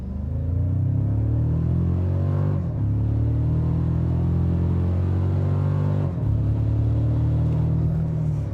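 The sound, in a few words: Toyota Tacoma Trailhunter accelerating from brake torque launch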